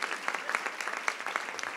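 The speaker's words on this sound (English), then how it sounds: "They can clap for themselves." An audience at a business ideas presentation claps together, a dense patter of many hands sustained through the short stretch, fairly close and lively.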